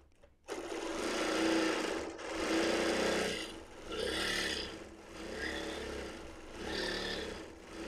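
A sewing machine free-motion quilting a zigzag quilt with the stitch regulator on, a loud, close, steady mechanical whir that surges and eases in waves across several seconds without talk.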